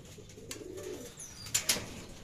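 Racing pigeons coo softly at a loft during training, a low, rolling murmur under faint background noise, with two sharp brief clicks or taps near the end; nobody speaks.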